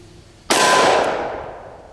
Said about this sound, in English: up first is the 357 Magnum